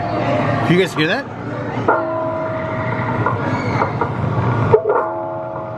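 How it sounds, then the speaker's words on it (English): A walrus at SeaWorld San Diego gives low, horn-like tones that sound like a buoy, with several sustained calls amid a noisy crowd where people talk throughout. "Walruses sound like buoys."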